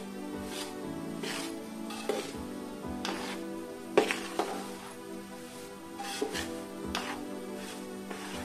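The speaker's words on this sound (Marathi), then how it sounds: "आता हा आपला रवा भाजत आलाय" Dry semolina (rava) roasting in ghee in a pan while being stirred, giving steady close scraping and rubbing strokes with a few sharper clinks of the spoon against the pan, no voices.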